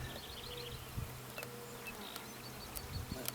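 Honeybees buzz densely around a hive frame during a beehive inspection, a close, continuous swarm drone with occasional louder passes and light knocks of handling.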